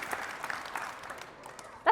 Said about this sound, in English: That's a lot of clapping.